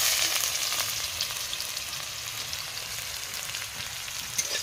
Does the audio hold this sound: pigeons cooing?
no